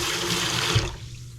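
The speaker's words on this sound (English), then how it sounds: "And now the water should come out strong." Water gushing from a newly installed Moen 84577BL kitchen faucet into the sink, a strong steady rush that cuts off abruptly about two-thirds of the way through.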